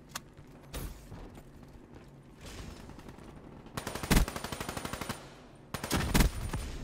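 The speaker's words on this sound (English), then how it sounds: "The Weevil might be my new favourite SMG." Automatic SMG fire from the Weevil in the video game Gauntlet, with two loud rapid bursts of shots standing out over quieter background game noise and scattered single sounds.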